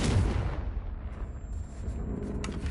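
A Confringo blasting curse going off in Hogwarts Legacy: one deep, muffled boom that rolls off into a low rumbling tail, moderately loud and heard alone.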